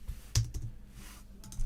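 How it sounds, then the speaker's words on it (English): Typing on a computer keyboard, a few close soft key taps in a brief uneven burst. "So let me type this at the top actually."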